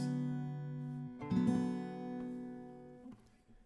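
A single strummed guitar chord rings out, followed by a second strum that sustains and fades, quiet and close.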